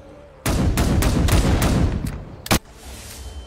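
Several rapid, loud gunshots fire in a quick burst in The Last of Us zombie game, followed by a couple of separate sharper shots, with a low rumble underneath.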